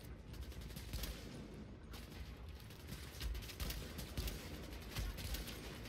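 Steady rapid gunfire while shooting at a machine gunner in Tom Clancy's The Division, a dense stream of overlapping shots with periodic louder cracks, continuous and fairly loud for the whole stretch.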